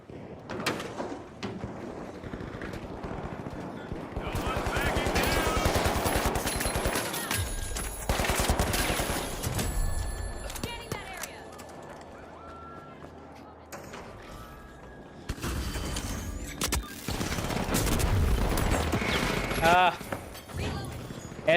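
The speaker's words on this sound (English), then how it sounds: "Let's try SMG as well." SMG gunfire in a video game played on Linux comes in rapid bursts separated by quieter gaps, with someone talking over parts of it.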